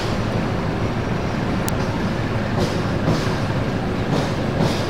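Empty Harina Ekonomi Premium passenger train at Semarang Tawang station, giving a steady, dense rumble and hiss of rolling carriages at moderate loudness, with a sharp metallic tick early on and no voices.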